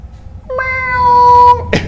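A voice imitates a cat, one drawn-out rising meow, loud and close, followed by a short breathy sound.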